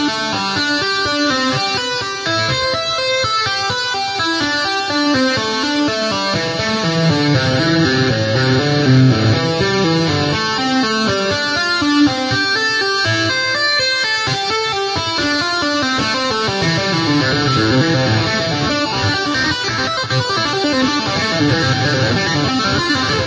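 Electric guitar finger tapping exercise built on hammer-ons, a dense continuous run of rapid, even notes ascending and descending, played alone, close and steady for over twenty seconds.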